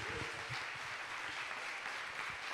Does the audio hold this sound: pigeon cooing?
no